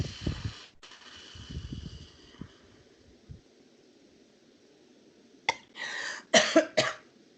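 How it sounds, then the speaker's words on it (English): A patient takes a deep breath, blows out hard through pursed lips, then coughs several times in a close, loud burst of short harsh bursts near the end, after a quieter stretch of breathing and rustling. "They should cough."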